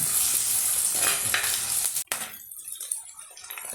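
Green chillies and curry leaves sautéing in a hot pan for a Kerala tapioca and ground coconut curry, a loud steady sizzle that cuts off abruptly near the middle, then gives way to quieter crackling and spitting.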